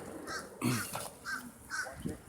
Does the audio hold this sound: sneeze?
no